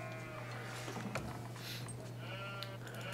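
Sheep bleating in a medieval real-time strategy game, faint calls over a steady game soundscape, with no one talking.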